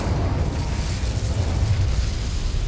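A fire spell, Incendio, cast in Hogwarts Legacy: a dense, steady roar of flame with a heavy low rumble, loud and close, lasting throughout without any voices.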